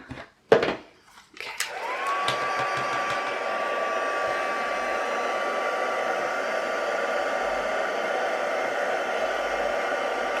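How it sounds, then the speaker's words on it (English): A handheld heat tool switches on after a few brief knocks and then blows hot air in a steady, close, even whooshing hiss that holds without a break to the end. "Here's my heat tool."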